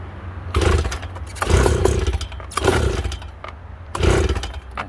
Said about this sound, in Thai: ถ้าเราเพิ่มขึ้นไปทีนิด ปึ๊บแล้วเราก็ลองสตาร์ทดูอีกรอบหนึ่ง